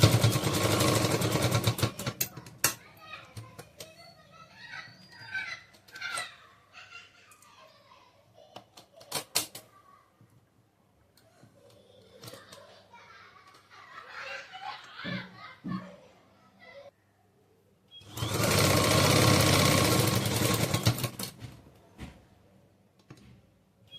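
A sewing machine stitches a saree being converted into a churidar, running in two loud sustained bursts of rapid mechanical whirring, one at the start and one near the end, with quieter handling and background voices in between.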